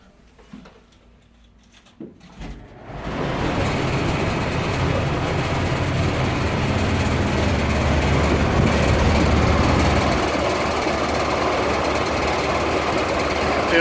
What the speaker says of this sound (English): these open up when the fan turns on